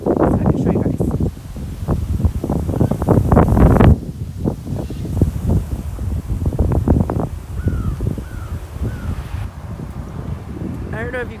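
Wind gusts across a garden, rumbling against the microphone and rustling foliage, loudest early on and steadier later, while a voice talks over much of it.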